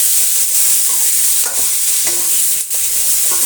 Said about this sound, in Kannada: ಇದರ ಜೊತೆಗೆ ಸ್ವಲ್ಪ ಒಣ ಕೊಬ್ಬರಿ ಕೂಡ ಸೇರಿಸ್ತಾ ಇದ್ದೀನಿ ಇದನ್ನು ಕೂಡ ಫ್ರೈ ಮಾಡ್ಕೊಳ್ಳೋಣ